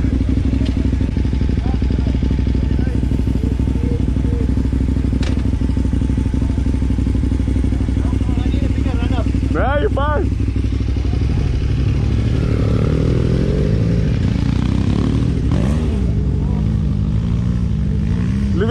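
A Honda Africa Twin motorcycle riding off in sand, its engine droning loud and close, then revving as it pulls away, with talk over it.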